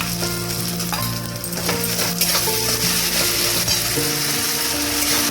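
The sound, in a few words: garlic paste frying with coconut in pan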